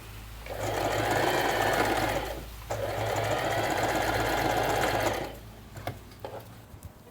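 A sewing machine stitches an armhole seam on a pleated blouse, running steadily in two long bursts with a short pause between, then stopping, after which faint handling clicks follow, close and clear.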